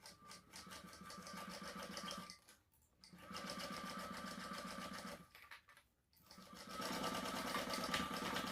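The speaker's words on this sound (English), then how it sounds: "stitch all the way around here at the seam allowance in the pattern" A sewing machine stitches around the seam allowance of a retro-style sling bag, running in steady close-up bursts broken by two brief pauses.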